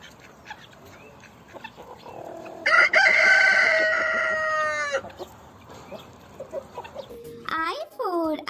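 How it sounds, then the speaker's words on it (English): Soft clucking and chatter give way to a rooster's clear, loud crow lasting about two seconds. A few sharp, higher calls follow near the end. "H for hen. H for hen."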